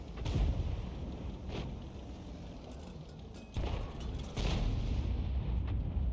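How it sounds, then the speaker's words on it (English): A Conqueror Gun Carriage tank gun in World of Tanks fires: two deep, booming cannon blasts in quick succession that rise out of a steady low background rumble. "The Conqueror gun carriage just fired over at him."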